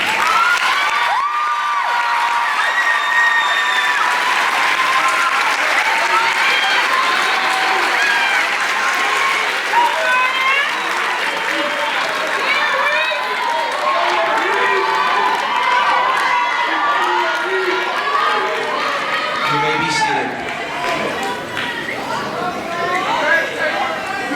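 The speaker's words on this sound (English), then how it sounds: "Members of NHS, please rise to be recognized by a round of applause" A crowd applauds and cheers at a high school commencement ceremony, sustained clapping with whoops and shouts rising and falling over about twenty seconds, voices calling out amid the noise.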